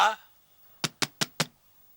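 Knocks on a closed door, four sharp evenly spaced raps close by, following a brief voice at the start and then silence.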